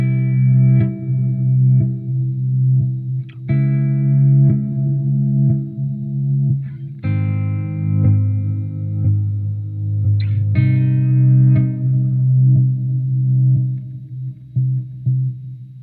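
Distorted electric tones run through a Microcosm effects pedal on a glitch patch, sustained chords that cut off and restart abruptly every few seconds with stuttering artifacts.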